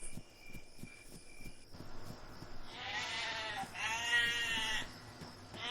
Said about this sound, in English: We got damn sheep here.